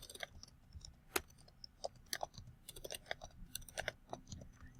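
Rapid, irregular clicking of computer keys being typed close up, in quick bursts with brief pauses, no voices.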